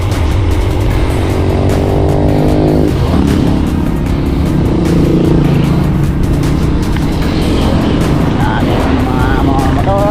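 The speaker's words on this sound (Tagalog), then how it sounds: "Mga motor." Motorcycles pass on a downhill road with a scenic view, their engines loud and close, whining up and down over continuous heavy wind and road noise, with a voice talking over it.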